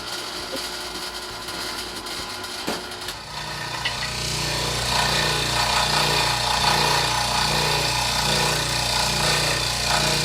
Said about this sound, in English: we're going to put it in the drill press before we go any further